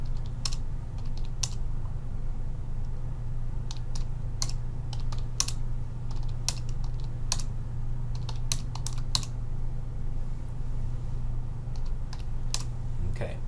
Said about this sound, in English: once you click on it, you just type it in